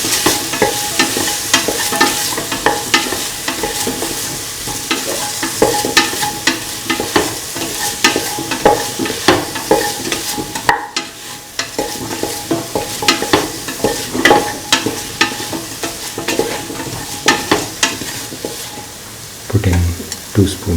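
An onion mixture for ginger potato rice is stirred and fried in a pan, with steady sizzling under repeated scraping strokes of the spoon throughout.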